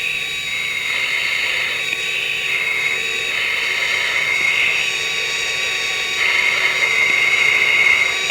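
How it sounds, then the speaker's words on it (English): Jet engines of an English Electric Lightning droning continuously in flight, a loud, steady whine with a high tonal edge that holds evenly throughout with no talk. "And engines are behaving themselves"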